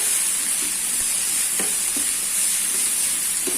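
Masala and spices for butter chicken frying in a pan over a low flame, a steady close sizzle with a soft hiss and occasional light stirring clicks, no talking.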